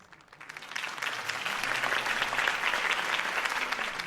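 A crowd applauds after a campaign speech by Harvey Dent in the Batman Telltale game. Dense, steady clapping swells within the first second and holds strong and even throughout.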